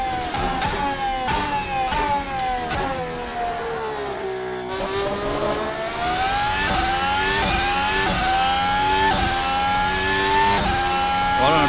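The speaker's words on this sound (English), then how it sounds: "I don't know about you guys, but this car sounds awesome." A modded race car engine in a Formula-style racing game at the Bahrain Grand Prix, revving hard and steadily, dipping briefly through a gear change and then climbing again. The engine drone is loud and continuous throughout.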